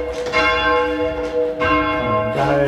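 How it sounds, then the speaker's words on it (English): A large church bell in Yatesbury rings loudly as it is rung down, several strikes in a row with long, ringing overtones, and the pitch drops as the swing slows. "we then have to bring the bell down to the safe position from where we started"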